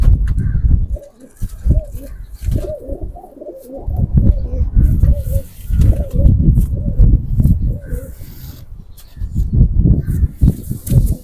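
Pigeons cooing in repeated low, throaty phrases, loud and close, with a Hirā Lāl or Golden pigeon among the birds and some chatter and other bird calls mixed in.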